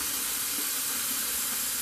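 A Varikettle hot water dispenser pours into a small pan, giving a steady, dense hiss of running water that stays constant for the whole short stretch.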